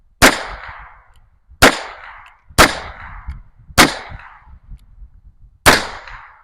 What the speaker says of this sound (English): I want to shoot around a bit, see if I can hit any of these fire extinguishers from the hip